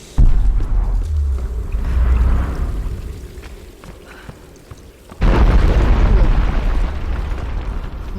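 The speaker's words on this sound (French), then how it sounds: "Une grosse explosion." A big explosion in the video game Tomb Raider Definitive Edition: a loud booming burst at the start, then a second heavy blast partway through that rolls into a sustained, rumbling roar to the end.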